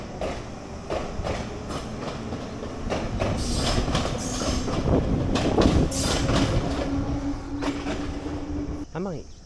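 A Ryūtetsu-Nagareyama Line train near Tokyo rumbles and clatters as it pulls away from a station, with a rising squeal near the end and some voices under the noise.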